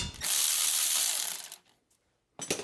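Lower brake caliper bolt being removed on a Chevy Impala during a front wheel bearing replacement, a bright close ratcheting whir lasting over a second, then silence and a short burst of metallic clicks.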